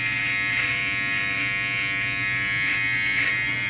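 Braun BT3040 electric beard trimmer running close by, a steady high buzzing drone with slight changes in pitch as it moves over a beard.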